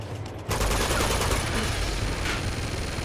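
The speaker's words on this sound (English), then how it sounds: "I don't need a fucking minigun to ruin it even more" Minigun fire from Uncharted 2 kicks in abruptly after a brief lull and roars on as a continuous, dense stream of rapid shots, loud and unbroken to the end.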